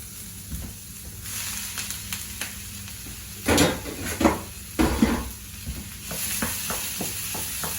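Potatoes tumble into a pan of sautéed onions for a frittata, setting off a steady frying sizzle with a few louder clattering bursts of spatula and pan contact, close and without talk.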